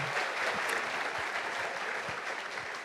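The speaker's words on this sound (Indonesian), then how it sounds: "Tepuk tangan untuk kita semua." Audience applauding at a talk-show event held at BINUS University, a brisk, even burst of many people clapping at moderate volume with no talk over it.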